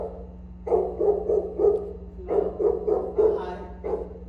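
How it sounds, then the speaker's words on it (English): A dog barks repeatedly in two bursts of quick, moderately loud barks, close by over a steady low hum. "go ahead and check on that dog"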